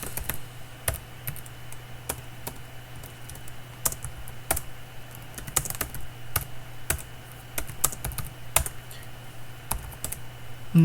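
Keystrokes on a computer keyboard entering a short command, a steady run of close, crisp clicks with brief pauses, no one talking.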